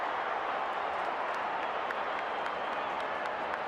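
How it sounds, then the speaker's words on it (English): Steady applause from the crowd at a Jamaica vs Mexico Gold Cup football match, a broad, even wash of clapping and stadium noise heard from a distance with no break. "That draws the applause from Hallgrimsson"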